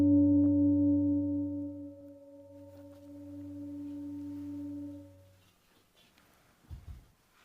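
Tibetan singing bowl ringing with a steady, pure sustained tone that slowly fades over several seconds, followed by a faint soft knock near the end.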